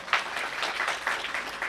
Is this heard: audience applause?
yes